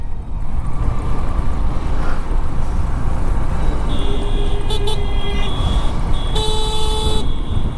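Motorbike engine running steadily on a road during a ride from Kolkata toward Purulia, shifting up through second into third gear, with a continuous loud drone, wind rumble and a horn toot near the end.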